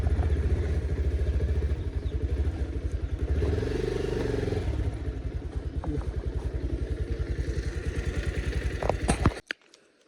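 A motorbike engine chugs steadily nearby in a hilly Nepali village setting, a rhythmic thumping idle that varies slightly, then cuts off abruptly near the end, leaving near silence.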